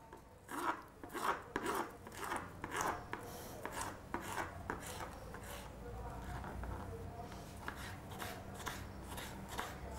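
A knife chopping green bell pepper into small brunoise cubes on a board, giving quick rhythmic close taps in bursts that turn into softer rasping strokes, while a person speaks over part of it.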